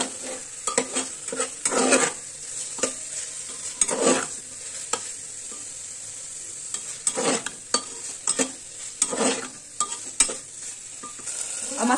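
Tomatoes frying with spices in a pan sizzle steadily while a spoon stirs and scrapes in repeated rough bursts, close and clear, with no voices.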